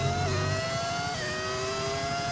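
An F1 25 video game racing car with a sound-modded V6 engine revs hard with a steady high whine, shifting pitch partway through, loud and continuous with no talking.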